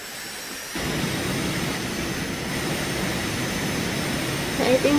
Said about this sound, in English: This is the F4 Phantom. So this is a two-seater jet